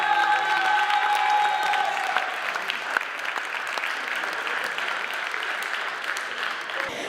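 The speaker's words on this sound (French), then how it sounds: "Et on peut les applaudir." Loud, sustained applause and cheering from an audience at a school graduation and diploma ceremony, with music fading in the background at first and a crowd clapping steadily throughout.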